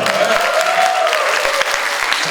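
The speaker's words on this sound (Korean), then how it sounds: "박수 한번 주세요" Studio audience applause at a Korean talk show taping, a steady loud wash of clapping filling the whole stretch, with a faint tonal hum running beneath it.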